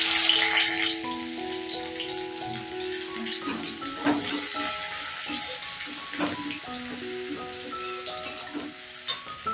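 Chopped onion hitting hot oil with black cumin seeds already in the pan, a steady crackling sizzle with scattered pops and spits, close and fairly loud, alongside faint tonal background sounds.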